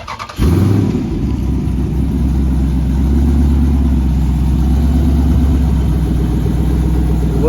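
A Jeep Grand Cherokee SRT engine cranks and fires after a brief starter whir, catching into a loud, deep, steady idle that rumbles on close by.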